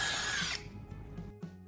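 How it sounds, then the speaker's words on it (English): A power drill bores a hole through the top of a black plastic spray can cap, a loud close whine lasting about half a second before cutting off, followed by faint handling knocks. "drilling a neat hole in its top."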